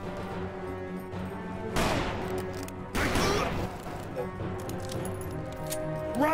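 Gunfire rings out in the Western shooter Call of Juarez: Bound in Blood, with two sharp, loud bursts of shots standing out over a steady musical score.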